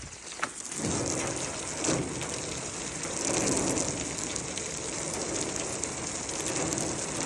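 Water spraying from a hose onto a fire at a 1963 Chevy Nova drag car, a dense steady hiss and splatter, loud and continuous after a brief thump at the start.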